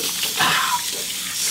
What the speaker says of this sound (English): This is a faucet.